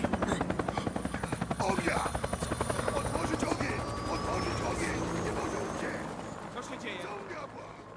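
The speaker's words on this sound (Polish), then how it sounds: "Śmigłowiec! Śmigłowiec!" A helicopter's rotor thumps rhythmically close by in the video game Days Gone, with shouting voices and game-like effects layered over the steady chopping drone.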